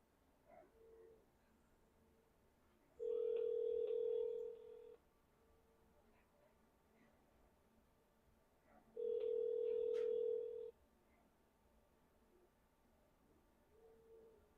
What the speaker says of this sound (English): See, like that sounds like ringing.